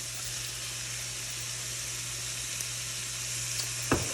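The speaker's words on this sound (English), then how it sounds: "I've been letting my sausage cook for about 2 minutes" Crumbled sausage sizzles with onion in a hot pan, a steady close crackling hiss with a low background hum and one sharp clink of a utensil near the end.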